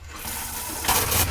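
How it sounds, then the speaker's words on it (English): A sink faucet in an A-Liner camper trailer is turned on and water runs in a steady, close rush that swells louder toward the end. "Let's go ahead and get the sink started."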